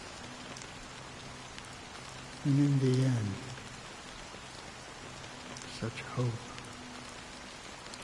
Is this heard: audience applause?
no